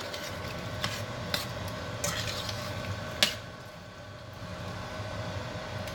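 Shrimp going back into a pan with herbs and garlic, a steady sizzle of frying under a few scattered clinks and scrapes of a utensil against the pan.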